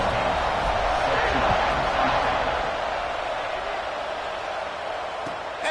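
A football stadium crowd at a Tulsa vs Auburn game buzzing after a score, a loud, steady, dense roar of many voices that fades slightly toward the end.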